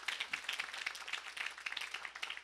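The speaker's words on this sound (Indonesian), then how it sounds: "Yang setuju berikan tepuk tangan yang meriah." Indonesian church congregation giving lively applause during a sermon, a fairly quiet, somewhat distant clatter of many hands with uneven bursts rather than a solid roar.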